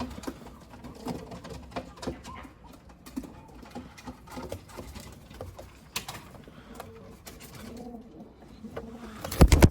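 Young Hünkari pigeon squabs, brightly colored, murmuring soft low coos from close by, with light shuffling and wing patter scattered through and a sharper bump at the end.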